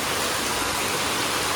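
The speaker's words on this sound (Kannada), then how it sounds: "ಮಳೆ ನೋಡಿ ನಿಲ್ತಾನೇ ಇಲ್ಲ" Heavy rain pours down outside a home in Mangalore, a dense, steady roar with no breaks and no voices.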